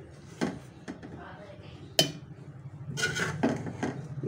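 Fried coriander, tamarind and garlic are scraped and tipped from a pan into a mixer jar, giving a few sharp metallic clinks and knocks close by.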